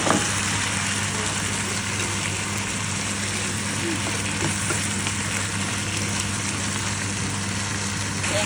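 Ground chicken sizzles steadily in a pan for a simple chicken giniling dish, a constant close frying hiss with faint stirring and no talk.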